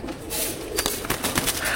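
Army-breed pigeons in a breeder's collection cooing softly and repeatedly up close, with rustling and faint background noise.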